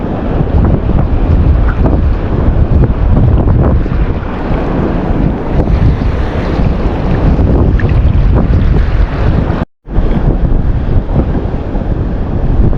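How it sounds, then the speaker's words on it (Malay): Rough, windy sea around a small fishing boat, with big waves and constant loud wind gusts hitting the microphone, broken by a brief cut near the end. "Ombaknya besar-besar nih, udah ganas teman-teman."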